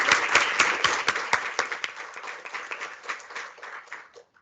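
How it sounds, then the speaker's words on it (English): Audience applause at a panel discussion on transgender and gender-affirming healthcare in South Africa, a dense burst of clapping from a seated crowd that thins and fades out toward the end. "we can give Ron also a hand of applause"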